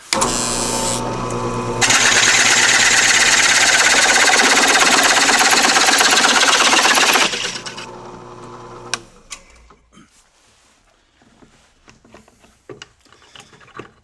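A power drill fitted with a rosette cutter bit finishes boring a hole, whining loudly with a rattling, grinding edge for several seconds before spinning down. Then come quiet handling knocks and clicks.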